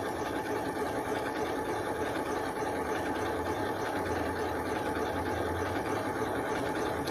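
A sewing machine runs steadily and continuously at moderate level, stitching a decorative pattern with a fine, even mechanical whir throughout.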